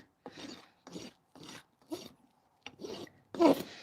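A brand new rasp files a horse's hoof in six separate rough, scraping strokes, close and fairly loud, each about half a second long with short pauses between, the last stroke the strongest.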